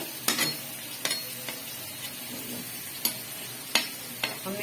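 Onion, ginger, garlic, potatoes and carrots frying together in a pot for chicken biryani, a quiet steady sizzle broken by several sharp clicks of a spoon stirring against the pan.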